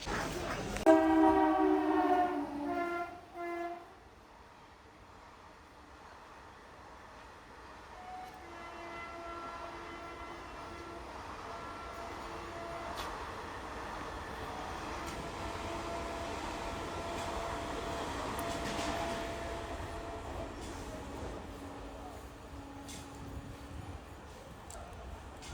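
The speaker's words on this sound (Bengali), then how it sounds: "বন্ধুরা দেখতে পাচ্ছ নৈহাটি লোকাল ঢুকলো সোদপুর স্টেশনে 1 নম্বর প্ল্যাটফর্মে।" Naihati local train 31419 pulls into platform 1 at Sodpur station, opening with loud horn blasts over a few seconds, then a steady rumbling, clattering approach that swells gradually as the carriages roll in.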